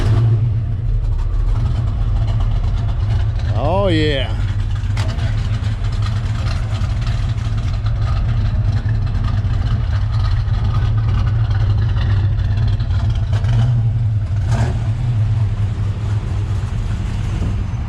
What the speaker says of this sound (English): Start it up for us. Let us hear this thing rumble.